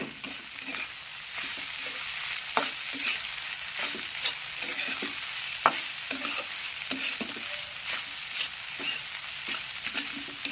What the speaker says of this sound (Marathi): पोहे आपण पहिल्यांदा हलवून घेणार आहोत